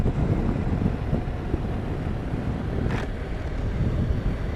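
Steady wind buffets the microphone on the Great Yarmouth seafront, a continuous broadband rush with no pauses and a brief gust-like burst near the middle.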